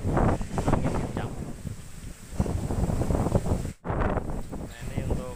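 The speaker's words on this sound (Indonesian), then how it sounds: "ini sedang terjadi angin kencang" Strong wind gusting through West Lombok, loud rushing bursts that rise and fall in waves with a brief dropout near the end, heard close to the microphone.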